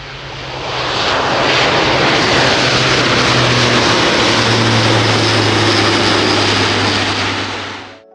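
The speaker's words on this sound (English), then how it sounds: "I'm waiting for the jet to pass through the center of our frame" A jet aircraft passes overhead at an aviation photography spot, its loud roar swelling in over a second, holding strong with a shifting low drone, then fading away at the end.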